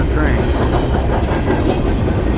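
A Norfolk Southern freight train hauling trash containers rolls past close by at night, a loud, continuous rumble with rhythmic clickety-clack of wheels over the rails.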